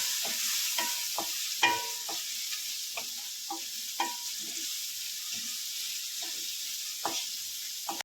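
Spoon scraping and stirring through a frying pan as garlic chutney, turmeric and coriander-cumin powder go into a khichdi tempering, giving a steady soft sizzle with a series of sharp clicks and knocks against the pan and no voices.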